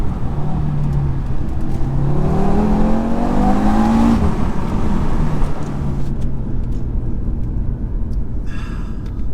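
Audi RS3 accelerating from low down, its engine note climbing in loud rising sweeps over a constant in-cabin rumble, then settling back to a steady drone with a brief crackle near the end.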